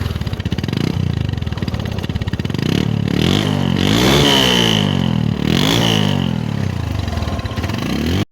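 Bajaj Discover 135 motorcycle engine running close by, loud and steady, with several revs rising and falling over the idle.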